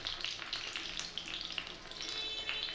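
Aloo gobi with egg sizzles gently over low heat, a close, soft, steady crackle with bright spattering pops and no voices.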